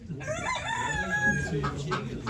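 A rooster crows once at a poultry auction, a loud, close cock-a-doodle-doo followed by brief clucking amid faint background bustle.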